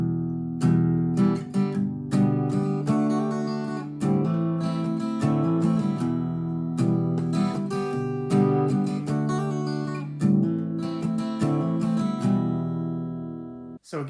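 Acoustic guitar strummed with the palm resting on the strings, giving a muted, percussive chug under chord tones; steady rhythmic strokes, close and fairly loud, with no talking.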